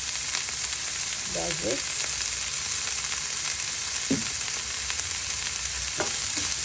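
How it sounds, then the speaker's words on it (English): Onions with a pinch of salt frying and caramelizing in a pan for egg fried rice, a constant loud hissing sizzle throughout, with a voice speaking briefly over it a few times. "Caramelize for few minutes. So these are the onions."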